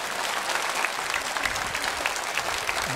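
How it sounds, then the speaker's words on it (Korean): Steady applause from a church congregation during a Sunday worship service, dense clapping filling the whole stretch at an even, fairly loud level with no voices. "처음 방문한 세 가족을 박수로 환영하겠습니다."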